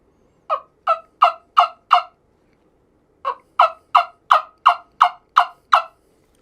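A wingbone turkey call sounds two runs of sharp, popping yelps in imitation of a wild turkey: five evenly spaced notes, a short pause, then eight more, each loud and close with no talk over them.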